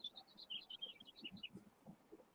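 Birds sing outside, faint and distant: a rapid run of high chirps and tweets over a low, murmuring background.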